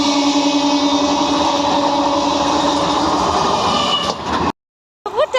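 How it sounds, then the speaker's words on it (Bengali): A train rushes past close by, a loud, steady rumble with rattling and a faint whine that holds for over four seconds before cutting out abruptly. "ওই যে ট্রেনের আওয়াজ একটু একটু পাওয়া যাচ্ছে"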